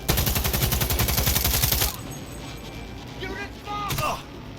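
Rapid automatic gunfire rattles loudly in the Cyberpunk video game for about two seconds, then cuts to quieter mechanical whirs and brief electronic chirps.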